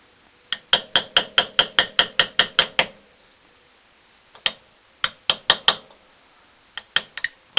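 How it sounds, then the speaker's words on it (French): A hammer taps metal while a washer on the sprocket of a Kawasaki ZRX1200S motorcycle is straightened. A quick run of about a dozen sharp ringing strikes is followed by a pause and then further shorter bursts of blows, all close up. "Le marteau, on tape."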